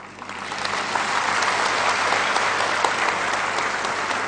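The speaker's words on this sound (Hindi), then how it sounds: "तो मैं चाहूंगा कि आप एक ऐसी ताली बजाएं जिससे यहां बैठे सारे लोगों का ब्लूटूथ" Audience at a lecture or public talk breaks into sustained applause, a dense crowd of clapping hands that swells after the first second and stays loud and steady throughout.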